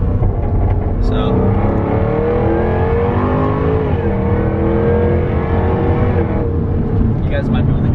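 Jaguar F-Type R exhaust revving, heard from inside the car with the windows up: a loud, continuous engine drone that rises and falls through several revs over about eight seconds, with no talking.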